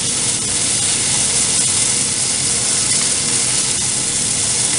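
Beef fries in a pan for spaghetti carbonara, a dense, even sizzling hiss that stays loud and close throughout with a few small pops.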